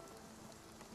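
Rain pours in a lightning storm in the game Spiritfarer, a dense, continuous wash of hiss and patter, faint and with no distinct thunder.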